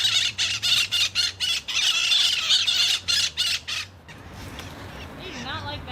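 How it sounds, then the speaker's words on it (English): A flock of invasive birds squawks and squabbles in a fruit tree overhead in Florida: loud, rapid bursts of harsh calls in a regular pulsing rhythm, then a quieter stretch of chatter and rustling. "They're totally eating above us right now and squabbling with one another"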